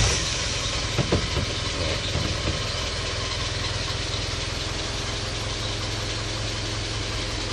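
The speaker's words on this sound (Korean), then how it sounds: "엔진 시동을 한번 걸어서 엔진 소리와 상태를 한번 확인해 보도록 하겠습니다" A 2001 Kia Combi 25-seat bus has its engine started with a brief cranking catch, then settles into a steady, rough diesel-like idle with a constant low rumble, close up and alone.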